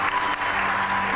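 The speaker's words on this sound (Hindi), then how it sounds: "अख्तर भाई के लिए भी बहुत सारी तालियां बजाइए" Close, loud clapping from a studio audience applauding Akhtar Chauhan, a short, dense burst that fills the moment with no voices over it.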